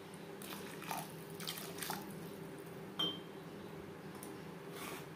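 Water is poured into a pan of paneer curry cooking over a low flame, heard as faint trickles and splashes with a few soft clinks against a quiet background.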